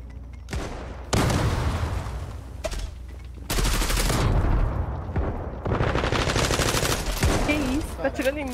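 Rapid gunfire bursts from the online shooter game Zula, loud, close bursts separated by brief gaps, with a voice talking faintly underneath.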